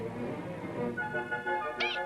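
Several cats meow near and clear, with overlapping drawn-out cries and a rising higher meow near the end, heard alone without talk.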